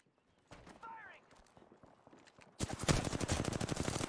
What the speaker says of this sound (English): I'm shooting the Marvin.